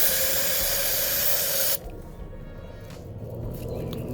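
Liquid sprayed into the valve spring holes of an engine during a Texas Speed valve spring install: a loud, steady hiss of spray for almost two seconds, then it cuts off to a quiet background.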